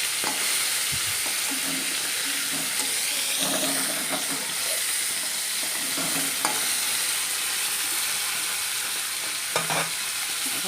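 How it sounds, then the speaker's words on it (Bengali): Tilapia fish frying in oil in a pan, giving a steady, loud, close sizzle with a bright hiss throughout, broken by a few soft clicks and clinks of cookware. "তেলাপিয়া মাছ রান্না করছি"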